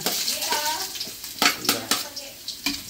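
Ginger sautéing in a pan gives a sizzle under repeated clattering stirs and scrapes of a utensil against the pan, close and fairly loud.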